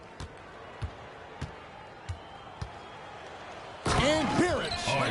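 In NBA 2K26, a dunk slams home on a basketball court after a run of sharp ball bounces and squeaks. The crowd then erupts into a loud roar.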